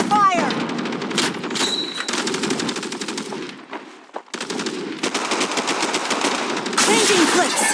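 MG30 machine gun from the World War Heroes game, firing long, rapid automatic bursts with brief pauses between strings of shots, loud and close, with short game voice callouts mixed in.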